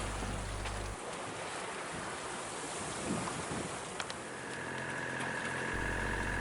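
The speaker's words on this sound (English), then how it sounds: "As you can hear, the engine is running again" A steady low drone of a sailboat's engine runs under rushing water and wind noise at sea in Belfast Lough, fairly quiet and continuous.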